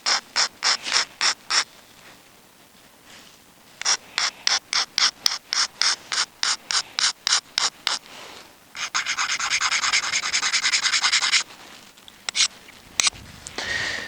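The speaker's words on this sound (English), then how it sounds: "Abrade along the bevel, which will strengthen it up." A flint preform's bevel is abraded with quick rasping strokes, grouped bursts of close, sharp scraping followed by a longer continuous rub and a few final strokes.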